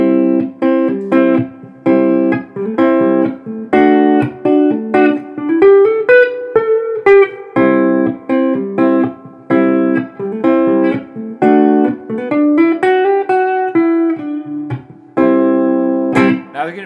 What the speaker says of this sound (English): So today I'm rocking out a Donner electric guitar.